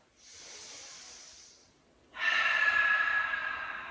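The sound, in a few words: deep breaths in through nose, out through mouth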